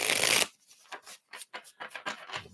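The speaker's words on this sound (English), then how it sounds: "Let me just give these a shuffle here." A deck of reading cards is shuffled in a quick riffle burst, followed by several softer, separate card shuffles and taps nearby with no talking.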